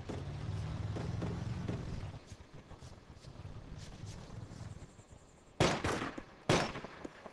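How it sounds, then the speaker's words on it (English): Two sharp gunshots ring out late in a DayZ firefight, set against a steady vehicle engine rumble and wind, with the shots loud and close. "He's shooting."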